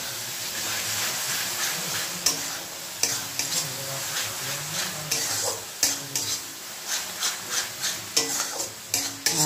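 Tomato masala with three spoons of sour yogurt added sizzles in a pan, with a hissing base under a run of rhythmic spoon scrapes and knocks that quicken toward the end, close and without voices.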